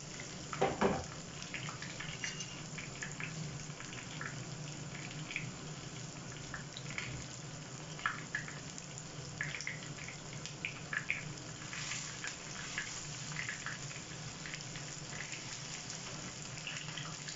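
Fish fries in a pan with a soft, continuous sizzle, fairly faint and steady throughout. Light stirring scrapes and crackles break through now and then, and no one speaks.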